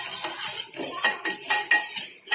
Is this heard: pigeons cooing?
no